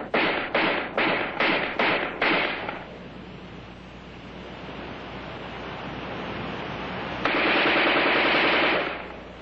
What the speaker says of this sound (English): In offhand firing against a man-sized target at combat range, the AR-10 is in a class by itself